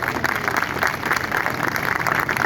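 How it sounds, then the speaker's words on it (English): Steady crowd clapping, a continuous even patter of many hands, moderately loud and unbroken throughout. "it needs a big round of applause, ladies and gentlemen"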